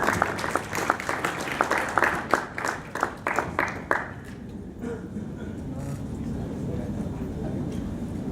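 Audience clapping at a workshop, a burst of brisk, dense applause for about four seconds that fades out into quiet room tone.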